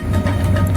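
A train on the Dhaka to Chittagong line rumbles steadily along the tracks while taking a bend, a loud continuous low roar heard from on board.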